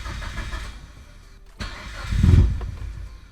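A Mitsubishi Evo 8 engine cranks briefly, pauses, then catches and fires with a short rising rev before settling, heard close up with no talk.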